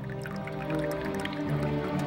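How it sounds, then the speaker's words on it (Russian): Water dripping in an ancient water clock by Hero, with a steady run of small drops falling onto a plate at close range, alone and with no voices. "Здесь вода служит измерителем времени."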